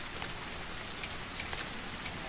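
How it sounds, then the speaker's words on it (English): Rain falling in the dinosaur survival video game The Isle, a steady, even hiss of rainfall with a few sharper drop-like ticks scattered through it and no talk. "Oh, here comes the rain."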